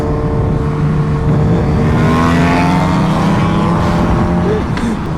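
Kawasaki Ninja H2R supercharged motorcycle engine run at full power on a closed course, a loud sustained roar with rising and falling engine tones throughout, close and continuous with no pauses.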